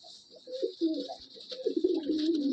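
Madrasi pigeons coo softly and repeatedly in a loft, with low, rolling calls sounding close and continuous over faint high background hiss.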